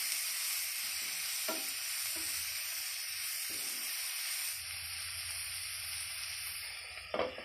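Chicken with red chili powder and roughly chopped capsicum is stirred in a hot pan. A steady sizzle runs throughout, with a few scraping stirs and a sharper clatter near the end.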